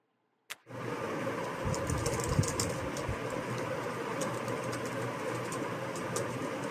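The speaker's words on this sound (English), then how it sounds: "that is the keystroke sounds of the keyboard" Keystrokes on an Acer nano pad keyboard, a steady run of soft close clicks under a constant background hum after a brief sharp knock at the start.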